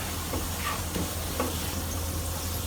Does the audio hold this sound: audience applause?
no